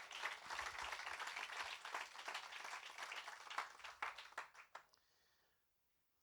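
A church congregation at a Sunday service applauds God, bright bursts of hand clapping that build and continue for several seconds, thinning into scattered claps before falling silent.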